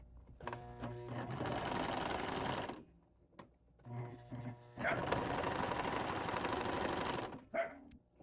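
A sewing machine runs a straight stitch along a ribbon bag in fast buzzing bursts, pausing briefly between runs, close and fairly loud.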